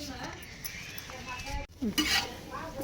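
Chicken cooking in oil in a pan, a steady soft sizzle with occasional stirring and utensil scrapes against the pan, close by, with brief voices in the background.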